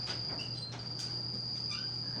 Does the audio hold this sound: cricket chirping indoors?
yes